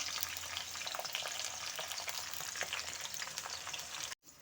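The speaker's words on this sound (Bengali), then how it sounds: "সাদা তেলটা দিয়ে আগে আমি একটু বাঁধাকপিটা বেরেস্তা ভেজে নেব" Steady, dense sizzling of shredded cabbage deep-frying crisp in plenty of white oil, close and even, cutting off abruptly near the end.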